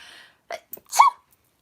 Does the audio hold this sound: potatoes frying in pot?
no